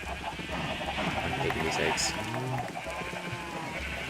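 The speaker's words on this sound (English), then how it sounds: "This is so many sheep." Sheep in Minecraft bleat repeatedly in a crowded flock, several overlapping wavering calls under someone speaking.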